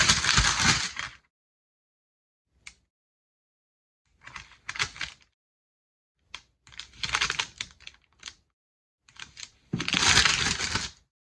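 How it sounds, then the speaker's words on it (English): Crisp bursts of snipping and crunching from small scissors cutting, coming in irregular clusters separated by short silences, close to the listener. "Now I'm going to use scissors for this design."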